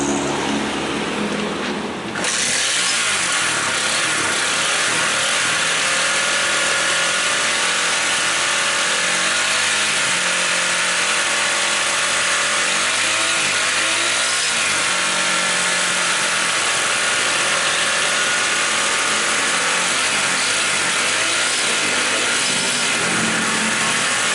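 Honda CB150R motorcycle engine starting and idling close by after a short opening, a loud, steady, buzzing run with slight wavering throughout and no talk.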